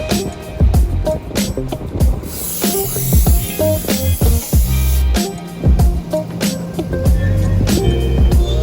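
Air hisses in bursts from a compressor hose into the tires of a Mitsubishi Lancer Evo 9, with repeated short pulses and clicks of the chuck, close and loud.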